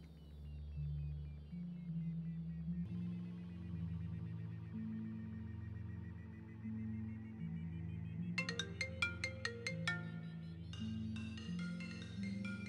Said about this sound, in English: imagine not putting your phone on silent